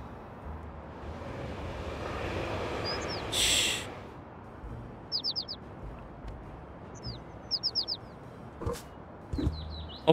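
Pigeons in the cat-life game Little Kitty, Big City, short bursts of quick chirping calls repeated in small clusters against quiet ambient background, with a brief fluttering rush near the start.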